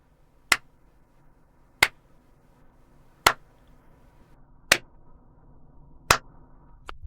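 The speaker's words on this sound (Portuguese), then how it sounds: "Esse é todo o aplauso que a Apple deveria receber por essa coisa absolutamente patética" One person clapping slowly and sarcastically, five sharp, isolated claps spaced evenly about one and a half seconds apart in a quiet room, with no talking.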